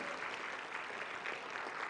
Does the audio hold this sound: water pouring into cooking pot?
no